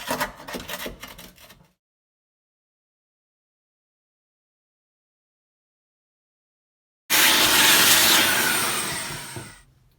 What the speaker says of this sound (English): so we did the vacuum